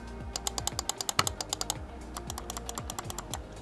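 Computer mouse clicked rapidly and repeatedly in close succession, sharp loud plastic clicks in a steady rhythm with brief pauses, heard up close with no talking.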